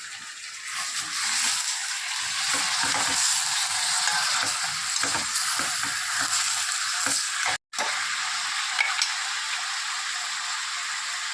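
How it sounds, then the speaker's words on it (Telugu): Chicken pieces drop into hot oil for a Rayalaseema-style country chicken curry, setting off a loud, steady, close sizzle and hiss that runs throughout, broken only by a brief silent gap before the frying resumes. "ఇదిగోండి చికెన్ వేసేస్తాను"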